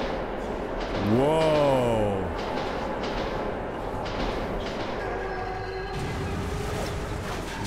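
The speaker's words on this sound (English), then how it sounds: "The ghost train's a-coming." A ghost train approaches through a metro tunnel in the video game Metro 2033 Redux. A deep, continuous rumble is topped early by a loud rising-then-falling metallic whine, followed by fainter squealing tones as the rumble keeps rolling.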